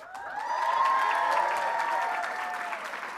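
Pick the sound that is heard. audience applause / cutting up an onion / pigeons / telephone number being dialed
audience applause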